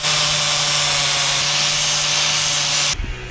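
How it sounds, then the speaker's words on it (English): A power grinder smooths a fabricated part for a 1/14-scale lowboy trailer for a semi truck. It gives a loud, steady abrasive whine that holds for about three seconds and then cuts off abruptly. "Time to grind it smoother."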